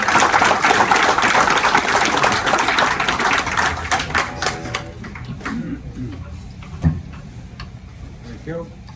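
An audience applauds to welcome a speaker at a talk. The crowd claps loudly at first, then thins out and fades away after a few seconds, leaving scattered quieter sounds.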